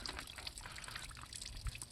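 Faint, steady trickle of water running continuously, with a small splash near the end.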